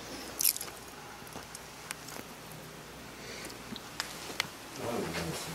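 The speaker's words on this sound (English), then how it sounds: "I hate the noises he makes with his mouth. Like, he's just like chewing on something here." A man chews on something with wet, squishy mouth noises and a few sharper bites, fairly quiet and close, with no talk over it.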